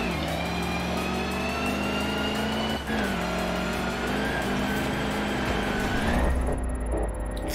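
In-cabin engine sound of a vehicle in Forza Horizon 4, a steady sustained drone that holds loud and dense throughout, with small shifts in pitch and one brief dip in level.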